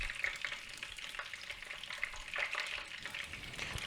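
Beeswax melts on a beehive frame with a continuous soft crackling sizzle, close and fairly quiet, with no voices.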